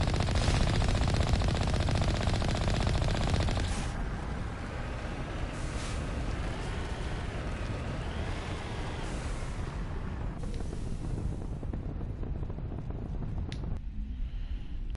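Rapid, sustained gunfire from a video game gun crackles loudly and continuously with a dense roar, easing somewhat after a few seconds but carrying on throughout.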